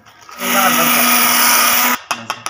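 A spice grinder crushing fennel and other spices whirs loud and steady for about a second and a half, then stops abruptly, followed by a few short knocks.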